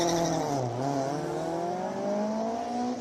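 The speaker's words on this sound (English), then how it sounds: "Gorgeous looking 924, final right-hander." A Porsche 924 race car powers through the final right-hander at Speed Classic Cape Town, its loud engine note falling as it lifts and then holding steady under load, with no voices over it.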